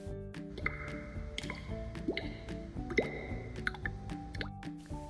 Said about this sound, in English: You can hear water dripping.